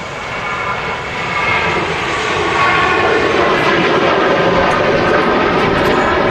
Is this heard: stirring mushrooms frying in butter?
no